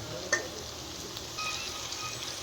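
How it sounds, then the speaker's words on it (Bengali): Chopped onion and tomato sizzle in a hot pan, a soft and steady frying hiss with a brief clatter near the start. "দিয়ে দিলাম পেঁয়াজ কুচিটা ভেজে নিচ্ছি দিয়ে দিলাম টমেটো কুচি"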